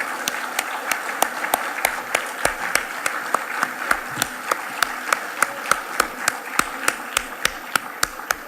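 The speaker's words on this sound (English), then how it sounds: "Could I request you to join me in applauding the Honorable Prime Minister?" An audience at the Dhaka Global Dialogue 2019 applauds the arriving Prime Minister, with a steady, rhythmic clap that repeats at an even beat, crisp and close, over a soft murmur for several seconds.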